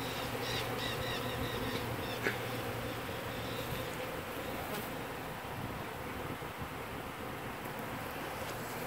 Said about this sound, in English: you can start emptying bees into the hive and create all this chaos